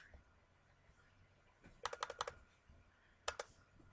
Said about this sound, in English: hold down the control key and click